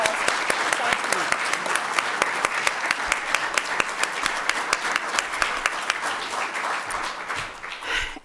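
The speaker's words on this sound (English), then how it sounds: "Can we all give the Congressman a very warm round of applause?" Steady applause from a large audience fills the room at a congressional forum on predatory financial practices, with dense clapping throughout and a few sharper individual claps standing out.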